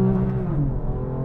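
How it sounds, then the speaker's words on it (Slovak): A BMW M4 fitted with an M Performance exhaust holds a deep, steady engine drone that swells and eases slightly, close and loud, with no talking over it. "Zvuk, ktorý ste počuli vo videu, patrí špeciálnemu výfukovému potrubiu BMW M Performance."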